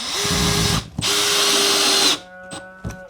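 A cordless drill whirs in two sustained bursts as a screw is driven into plasterboard, followed by a few faint clicks and knocks.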